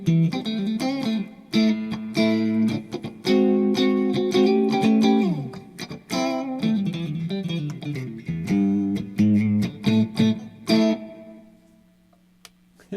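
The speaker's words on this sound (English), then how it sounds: "I'm getting lots of different tones from three guitars that are quite similar basically in how they're made, how they're set up" Three similarly built electric guitars play through a Fender Mustang amp, heard as a run of strummed and picked chords and notes with effects tones, ending in a fading sustained note.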